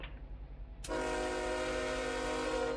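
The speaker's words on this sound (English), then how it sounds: "So this is definitely the same train horn" After a quiet moment, a loud, sustained train horn from a video game train blares abruptly and holds its chord steadily to the end.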